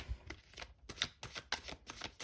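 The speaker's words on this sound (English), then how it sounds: "I will give the deck a few more shuffles" A tarot deck being shuffled close up during a quiet reading, giving several separate riffling bursts of cards with short pauses between them. No one speaks.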